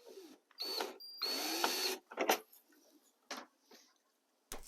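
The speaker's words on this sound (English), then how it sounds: "I'm pinning everything in place with some 1 1/4 inch drywall screws." Power drill driving 1 1/4 inch drywall screws into XPF foam scenery, several short whirring bursts of about a second each with brief pauses between, close and clear.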